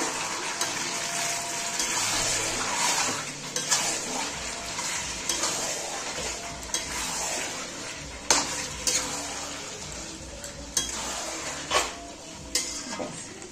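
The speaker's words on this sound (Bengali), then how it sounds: "আবার একটু নেড়ে দেব" Bengali-style mutton curry with potatoes stirred in a pot, a steady wet scraping and bubbling texture with a few sharper clinks of the spoon against the pot near the end.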